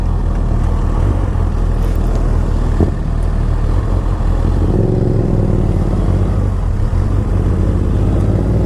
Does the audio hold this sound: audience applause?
no